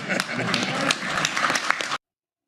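An audience claps in a brief burst of applause, steady for about two seconds and then cutting off abruptly into silence.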